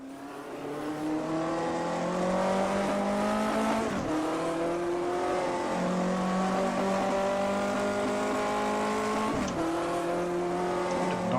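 A 1958 Formula 1 race car engine in the racing sim AMS1 drones loud and close, its note climbing through the gears with brief dips at each shift, held high and steady throughout.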